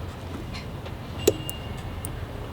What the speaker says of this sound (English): You can hear the relay click.